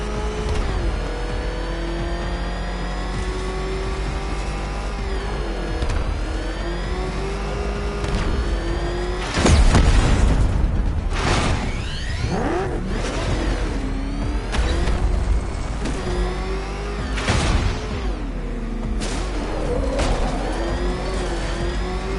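The Batmobile's engine in Batman Arkham Knight roars and revs in rising and falling sweeps, loud and sustained, with heavy thumps and mechanical surges as it accelerates over about twenty seconds.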